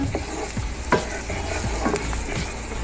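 Moussaka mixture with curry powder stirred in a frying pan, a continuous sizzle with several spoon scrapes and clicks against the pan, close and alone without talk.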